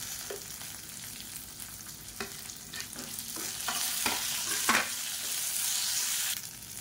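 Small onions and curry leaves frying in a pan for chutney give a soft continuous sizzle, punctuated by irregular scraping clicks of a spoon stirring, the sizzle swelling slightly midway.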